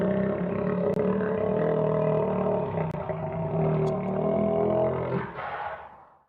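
A crocodilian gives a low, grumbling, vibrating rumble that holds steady for several seconds before fading.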